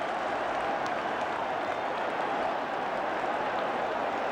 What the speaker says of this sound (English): and the crowd shouted immediately too